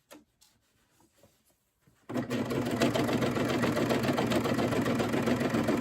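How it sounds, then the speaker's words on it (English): A few faint clicks and taps, then a serger starts up and runs fast and steady, a loud whirring, rattling hum that continues to the end. "A serger will actually go twice as fast as your sewing machine."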